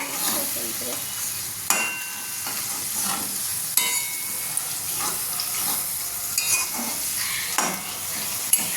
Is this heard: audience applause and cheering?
no